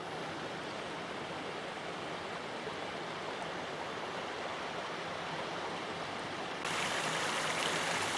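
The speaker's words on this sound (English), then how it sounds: "The river cascades beautifully in yet another waterfall down from Achriabhach to feed the main river along the glen" A river cascading down a waterfall in Glen Nevis, Scotland, a steady broadband rush of water that grows louder and brighter near the end as the falls come closer.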